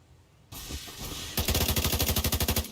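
An assault rifle opens up in the video game The Division 2, first a muffled rumble, then a rapid, loud burst of evenly spaced automatic shots hammering close by.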